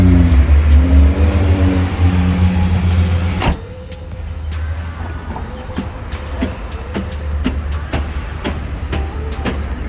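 A 2021 GMC Yukon Denali with rear-end collision damage idles steadily up close, a loud low engine rumble throughout, with a heavier surge in the first few seconds and faint clicks over the running engine.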